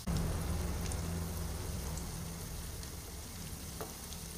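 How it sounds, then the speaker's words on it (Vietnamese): Vegetarian wontons frying in hot oil in a pan, a steady close crackling sizzle with scattered pops that eases slightly over a few seconds, with no voices. "khi dầu nóng cho miếng hoành thánh vào để chiên"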